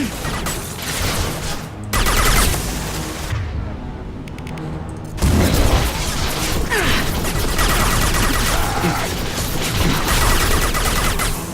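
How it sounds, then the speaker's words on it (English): Loud, dense gunfire from the video game Mass Effect 2, sustained bursts and crashes running nearly unbroken for about twelve seconds, with one brief lull and heavier impacts returning midway. "So much gunfire."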